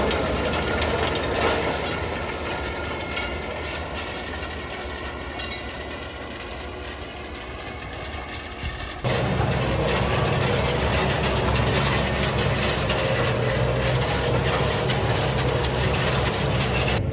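Claas farm machinery working a field gives a continuous, dense mechanical clatter and drone, close and steady, that steps up noticeably louder about halfway through.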